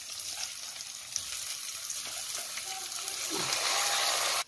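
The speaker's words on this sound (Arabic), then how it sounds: "هننزل بالرز اللي غسلاه." Washed rice tipped into a pot of frying onion and garlic for koshari sauce, a bright steady sizzle that swells louder toward the end with a few stirring scrapes, close up and without speech.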